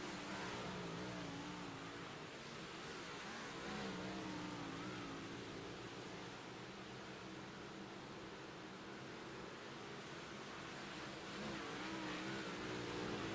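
A race car crosses the finish line during an online sim racing league event at USA, with a steady, loud engine roar holding from start to end and no voices.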